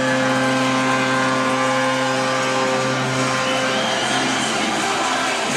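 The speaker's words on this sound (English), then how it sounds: "And the crowd erupts." A crowd at the World Ball Hockey Championship bronze-medal game, USA against Switzerland, roars after a Swiss goal, a dense, steady wall of loud cheering and whooping, with steady horn-like tones sounding through it.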